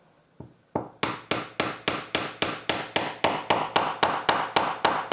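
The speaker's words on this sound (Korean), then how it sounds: "망치로 톡톡 두드려줍니다." A small hammer taps a cotton swab into a wood-glued hole in a wooden balancing shelf kit, about sixteen sharp, evenly spaced knocks sounding close and alone, speeding up slightly after a couple of slower opening taps.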